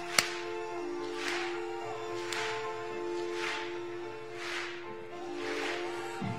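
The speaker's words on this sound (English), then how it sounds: "Clap your hands. Clap your hands." An audience at a school MLK Day assembly claps hands in unison, a steady beat of roughly one clap per second, with a faint sustained musical tone beneath.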